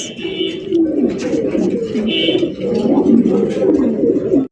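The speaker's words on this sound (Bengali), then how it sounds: "বন্ধুরা এখানে রয়েছে একজন লোটন কবুতর।" Lotan pigeons coo continuously and loudly up close, overlapping throaty calls with a faint higher twitter in the background.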